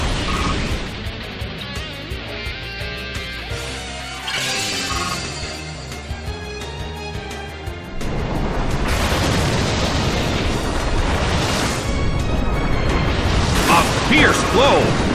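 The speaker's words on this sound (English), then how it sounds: "Fierce blow! Such amazing power! A brilliant hit!" An attack lands in Pokémon Battle Revolution, Charmeleon's hit producing loud booming impact bursts and shattering crashes layered over game music, with an announcer calling the action over it.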